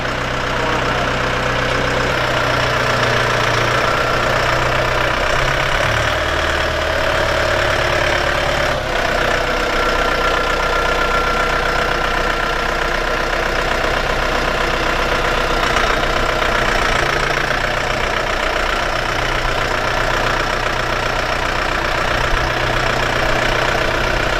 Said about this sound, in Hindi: ट्रैक्टर की जो आवाज़ है ना, मतलब ऐसे फील आता है जैसे महिंद्रा थार थी पुरानी आवाज़